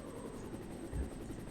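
A helicopter in the Resident Evil video game produces a steady, low rotor drone with a faint rhythmic chop, quiet and continuous throughout the brief moment, with a slight low thump near the middle.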